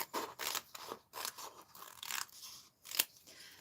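Scissors snip out paper craft images in quick, close, crisp cuts, several crunchy strokes in a row with short pauses and one sharp snap near the end.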